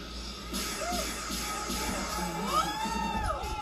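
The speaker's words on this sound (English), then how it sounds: "Oh, he definitely got the crowd going behind him." Crowd noise swells at a dance tournament, a steady murmur of cheering and shouting with rising whoops near the end, sustained under a busy room ambience.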